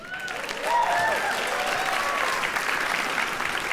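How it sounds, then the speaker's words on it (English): Audience at a TEDx talk in Dayton breaks into sustained applause, dense clapping swelling in the first second and holding steady and loud throughout with a few whistles mixed in. "Thank you very much, everybody, for the applause."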